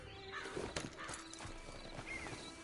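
Hooves clop along steadily while a horse whinnies briefly, set against a soft ambient backdrop, in the video game Red Dead Online.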